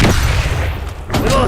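A grenade explodes in the shooter game F.L.A.G. One loud, close boom opens the clip and a second blast hits about a second later, over busy game noise.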